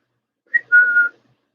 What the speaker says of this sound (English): That whistle calls my cat.